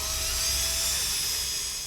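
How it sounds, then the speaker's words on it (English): An electric drill turns an original distributor from a 1970 Hemi Coronet dash setup, giving a steady, high-pitched whine that stays loud and constant, close by, with a faint tone gliding downward partway through. "The drill is hooked to an original distributor, so it's simulating it's in a car and spinning around"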